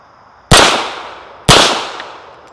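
Two sharp, loud gunshots from an all-steel Egyptian 9mm pistol fired in single action, spaced about a second apart, each with a crisp crack and decaying echo, no talking.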